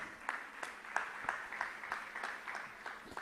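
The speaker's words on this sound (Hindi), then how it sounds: "तालियां तालियां तालियां।" Sparse, quiet clapping from an audience at a Jain religious question-and-answer discourse, with a handful of separate claps at irregular intervals and no voices over them.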